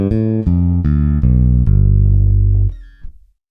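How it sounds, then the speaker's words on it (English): Ample Bass P-Lite 2 bass plugin by Ample Sound: a short run of deep, clean bass notes played one after another, each ringing on, the last sustaining before fading out, with no talking. "I downloaded a plugin for bass right here called Ample Bass P-Lite 2 by Ample Sound."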